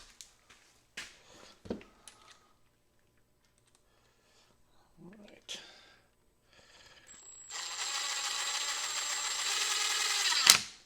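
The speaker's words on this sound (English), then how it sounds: "let's just screw this into this chunk of 2x4" Screw driven by a power driver into a chunk of 2x4 lumber, a few brief clicks and taps first, then a steady loud whirring drive lasting about three seconds that ends abruptly.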